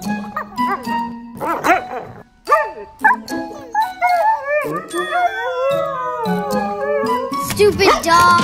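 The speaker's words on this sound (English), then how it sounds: "Stupid dog!" A dog barks and then breaks into long, wavering howls, loud and close, with yips mixed in and people talking over it in a comedy skit.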